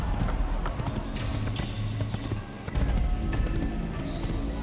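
Galloping horse hooves in the video game Assassin's Creed pound rapidly in a steady rhythm, loud and close, mixed with clattering effects and a brief neigh.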